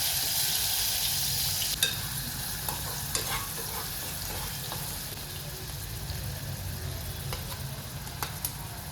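Finely chopped onion fries in oil with asafoetida, carom powder and white sesame seeds, giving a continuous even sizzle close by, with a few light stirring clicks scattered through.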